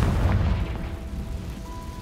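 A Confringo fire spell explodes in Hogwarts Legacy with a loud, deep boom that rumbles heavily and then decays slowly over a couple of seconds, with no talking.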